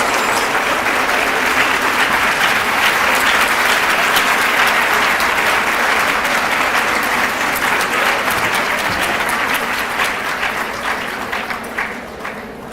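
Sustained, dense audience applause closing a talk on early-childhood education quality at a conference, loud and steady before gradually tapering off near the end.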